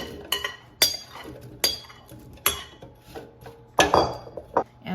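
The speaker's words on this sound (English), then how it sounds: "now let's take out the air fryer basket and add the potatoes" Air fryer basket pulled out and potatoes added, heard as a series of sharp metallic clinks and clatters with short knocks, close by and intermittent, no talking.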